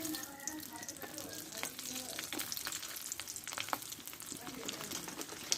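Panch phoron spices and a few garlic cloves sizzling in hot oil, a steady fizzing crackle with scattered sharp pops and some clinks from stirring, close up.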